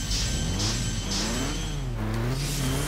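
A Honda Civic EG6 VTEC engine revs hard in the Initial D racing game, its rising and falling pitch sweeping through several gear pulls, loud and close with steady road noise underneath.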